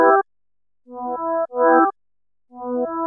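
A mellow synth phrase of swelling chords runs through a brick-wall low-pass EQ that cuts the top end, leaving a dull, muffled keys tone in two short pairs of notes, close and alone.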